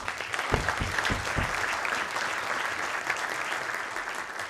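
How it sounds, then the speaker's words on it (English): A lecture audience applauds in a steady, dense burst of clapping that runs the whole time at an even level, with no one speaking over it. "So a huge round of applause for"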